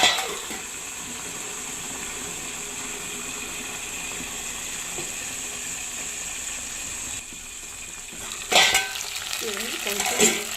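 Eggplant pieces cook in a pan with curry leaves, a continuous soft sizzle that runs evenly and briefly dips before a short clatter of stirring or utensil contact near the end.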